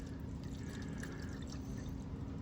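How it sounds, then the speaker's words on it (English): Water drains from an old Holden HQ six-cylinder engine into a drain pan, a faint steady trickling and pouring with no talk. "our drain pan's getting full of water"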